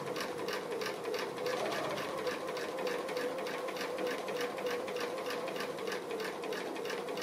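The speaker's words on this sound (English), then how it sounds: "you can just stitch amazingly intricate shapes by doing this free motion stitching" A sewing machine does free-motion stitching on fused applique fabric, running in a fast, even stream of rhythmic mechanical ticks, close and continuous without any talking.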